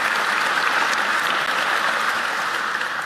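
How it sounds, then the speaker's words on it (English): Steady, even applause from an audience at a county government address honouring a police honor guard, continuous dense clapping at constant loudness with no talk over it. "please give them a round of applause for their service"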